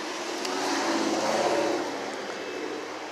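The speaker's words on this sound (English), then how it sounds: "Sorry if you heard that big engine Mustang in the background." A big-engined Ford Mustang drives away in the background, a steady broad engine rush that swells slightly and then holds at a moderate level without any distinct revs.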